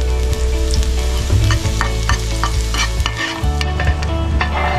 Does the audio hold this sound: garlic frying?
yes